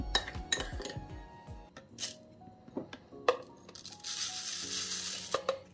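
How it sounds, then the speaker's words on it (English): Dry rice is poured into a blender, giving a series of clinks and rattles of grains against the container along with a few sharper knocks and a longer rushing pour near the end. "So I'm just adding it to the blender here."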